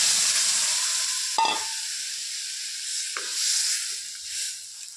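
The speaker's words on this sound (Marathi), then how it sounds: "आता सगळे मसाले एकसारखे परतून झाले, भाजले की आपल्याला त्यामध्ये शिजवून घेतलेला मसुरा टाकायचा आहे" Cooked whole masoor lentils drop into a pan of roasted spices, giving a steady loud sizzle and hiss with a couple of sharp splashes and stirring clinks, no voices.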